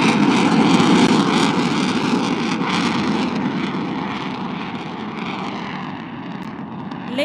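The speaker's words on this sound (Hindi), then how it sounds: "F-16 अपनी कम से कम रफ्तार पर परवाज करने की सलाहियत का मुजाहिरा करते हुए" A Pakistan Air Force F-16 fighter jet makes a slow, low pass at a national day air display, giving a loud, broad roaring rumble that fades gradually as it moves away.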